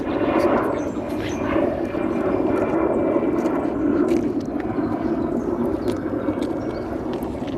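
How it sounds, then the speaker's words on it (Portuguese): An airplane passes overhead outdoors, producing a steady, broad engine roar that fills the whole stretch at a fairly constant loudness with no clear rise or fade. "Só esperar passar esse avião, já não entrou aqui."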